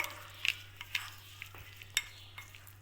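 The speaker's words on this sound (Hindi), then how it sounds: "मिक्स करेंगे अच्छी तरह से" Chicken being mixed by hand or spoon with cumin powder and coriander powder, a few quiet, separate wet scrapes and clicks against a bowl in near silence.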